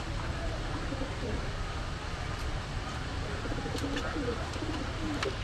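A pair of Mukhi pigeons and other birds at a pigeon shop coo softly in low repeated calls over a steady background hum, fairly faint and close.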